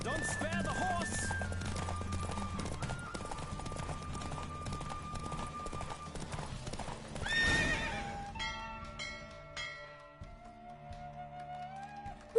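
Galloping horse hooves in a race in the video game The Witcher, rapid clip-clop rhythm with a neigh, under game music and voices, ending in a fanfare-like musical sting.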